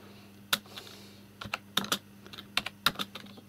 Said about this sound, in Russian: Одной рукой печатаю.